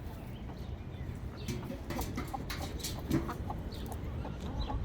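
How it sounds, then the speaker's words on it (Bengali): Chickens cluck and murmur at a farm, a steady low fowl chatter with one brief louder note partway through, close by and without talk. "আলিনা ওয়েট, ওই তো দেখো, এদিকে দেখো কি করে মুরগি"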